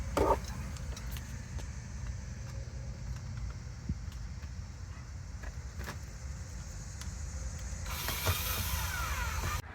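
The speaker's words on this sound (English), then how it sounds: "then we're just going to install our screws" Screws are driven to mount an outdoor solar security camera, close ratcheting and clicking of a hand tool over steady background noise, with a burst of brighter mechanical noise near the end.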